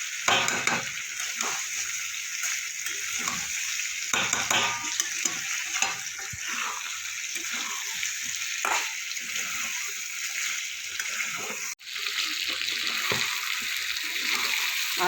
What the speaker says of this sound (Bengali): ভেজে রাখা আলুগুলো আমি দিয়ে দেবো, দিয়ে আরও কিছুক্ষণ কষিয়ে নেবো